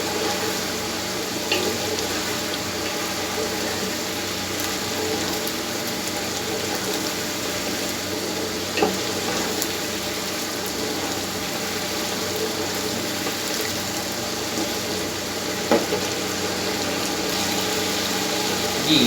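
Steady sizzling and crackling of roasted crushed cumin frying in a hot pan, continuous and fairly loud throughout, with a few brief clinks partway through.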